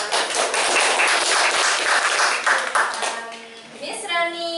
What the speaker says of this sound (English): Give applause for our